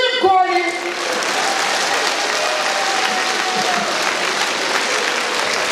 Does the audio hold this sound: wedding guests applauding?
yes